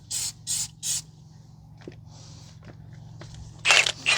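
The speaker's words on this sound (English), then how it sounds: "Probably spray a little bit of the penetrating oil." Penetrating oil from an aerosol can is sprayed onto the inner tie rod jam nut of a 2006 Mazda 3 2.0: three short, close hissing bursts, a few small clicks, then a longer final burst.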